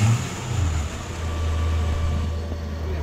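A Toyota Hilux with a 1UZ V8 engine cranks over steadily, a low continuous drone with a faint even hum throughout and no voices.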